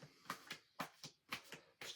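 A deck of tarot cards is shuffled in short, sharp bursts: about eight quick snapping card flicks in two seconds, close and quiet, with no voice.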